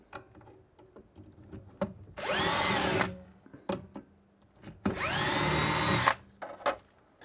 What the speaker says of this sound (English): Quick pilot hole.